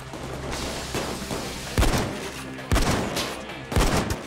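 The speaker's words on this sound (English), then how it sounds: "Wow, random gunfire sucks." Gunfire rattles in the video game Payday 2, with three sharp loud bursts of shots standing out over a busy background of game noise.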